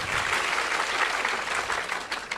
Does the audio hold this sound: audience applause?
yes